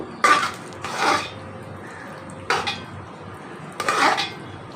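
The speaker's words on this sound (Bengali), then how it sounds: "খিচুড়িটার সঙ্গে এভাবে আমি মিশিয়ে নেব" Metal spoon stirring khichuri in a cooking pot, four separate bursts of scraping and clanking against the pot with short pauses between, close and fairly loud with no talking.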